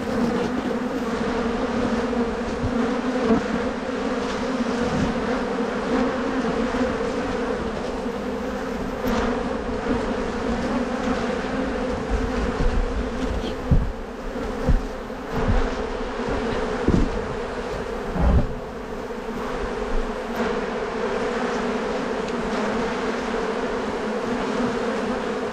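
A bee swarm lodged in an attic gives off a dense, continuous buzzing that stays steady throughout, with a few dull knocks and thumps now and then.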